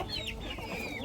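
Lavender Orpington hens and a rooster cluck steadily in a flower run, a soft, continuous murmur of fowl calls at moderate distance with no talking.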